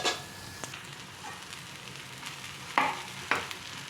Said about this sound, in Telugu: దీంట్లోకి మనం అన్నం కలిపేసుకుందాం